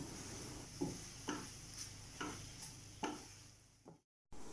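Prawn roast with curry leaves is stirred in a pan, with a spoon scraping in about five evenly spaced strokes over a faint sizzle, then a short cut to silence near the end.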